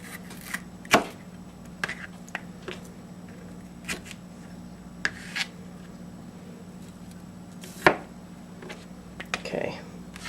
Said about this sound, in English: I start chopping into them.